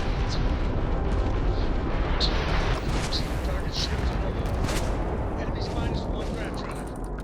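Dense, continuous gunfire from a Starfield firefight, heavy rumbling blasts and crackling shots layered into a loud, unbroken barrage that eases slightly toward the end.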